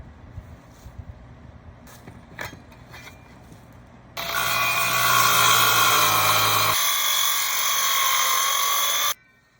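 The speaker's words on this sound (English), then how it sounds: "try to cut it with a circular saw, the main part of it, and then jigsaw it out." Circular saw cutting scrap wood for a rustic cooler, a few light clicks and handling knocks, then a loud continuous whining cut for about five seconds that stops abruptly.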